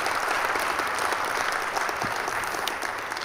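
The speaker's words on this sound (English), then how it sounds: "why don't you give her a round of applause for the worship set" A church congregation applauds after a worship set, a dense, steady clapping from a crowd that carries evenly through the whole stretch and eases slightly at the end.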